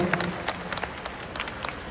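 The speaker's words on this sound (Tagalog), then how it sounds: "Ay, palakpak naman yan." An audience at a provincial address in Batangas breaks into brief applause, moderately loud with a few sharp claps popping out of a steady clatter.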